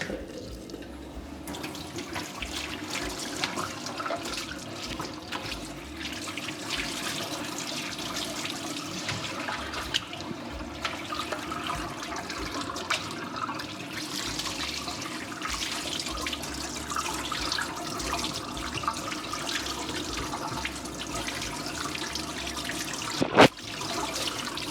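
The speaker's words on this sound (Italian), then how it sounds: "Adesso io lo vado a sciacquare sotto l'acqua, quindi sotto l'acqua normale, l'acqua del sindaco" Tap water runs steadily over homemade culaccia cured meat being rinsed in a sink, a continuous close splashing hiss with small shifts as the meat is turned, ending in a brief clunk.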